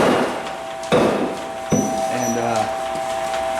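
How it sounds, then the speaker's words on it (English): A hammer strikes hot steel being forged into a stone-carving gouge at a stone company's shop, two or three heavy clanging blows spaced apart over a steady background hum. "it takes a couple of processes of lifting the hammer and beating on it."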